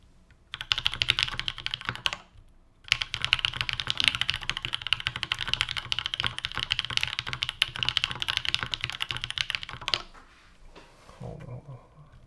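Continuous rapid typing on a Wind X80 prototype mechanical keyboard, close and steady keystrokes with a brief pause and another short stretch of key presses.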